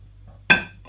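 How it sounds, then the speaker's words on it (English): Steel electrode plates are fitted onto a raw sausage, giving one sharp metallic clink after a quiet pause and then a brief ringing decay, close and alone. "So first we need to attach the electrodes"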